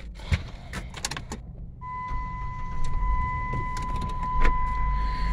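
A car drives with a low rumbling road drone and scattered clicks and rattles inside the cabin, while a steady tone runs along for most of the stretch; no one speaks.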